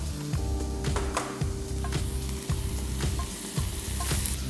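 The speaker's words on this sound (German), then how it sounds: "Dann geben wir schon die Zwiebeln dazu. Und auch gleich ein bisschen Zucker, damit es karamellisiert." Onions fry in a hot pan with a little sugar, giving a steady close sizzle broken by repeated scraping and stirring knocks.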